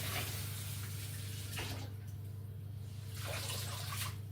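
A kitchen cloth wetted under a running tap while making butter brioche, a steady rush of water with a couple of brief louder splashes as the cloth is moved, over a low background hum.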